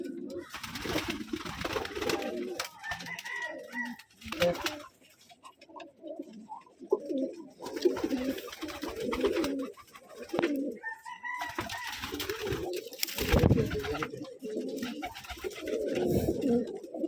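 Pigeons coo repeatedly in a small room of a pigeon loft, soft throaty rolling calls overlapping in bursts from several birds nearby, with some background shuffling.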